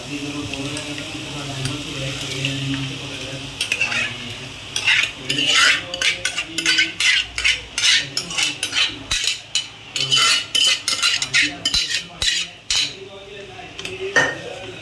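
Vegetables are stirred in a metal pan while cooking pav bhaji at home, giving a rapid run of close scraping clinks against the pan over a soft sizzle, with no talking.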